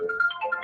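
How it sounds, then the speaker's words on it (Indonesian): A phone ringtone plays a short, loud melodic run of tonal beeps, clear and close, with no talking over it. "maaf ada telepon"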